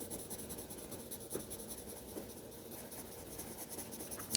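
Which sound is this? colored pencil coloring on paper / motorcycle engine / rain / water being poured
colored pencil coloring on paper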